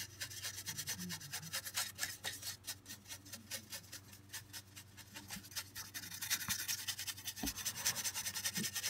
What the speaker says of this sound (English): I take a large fan brush and this is just going to be a base coat.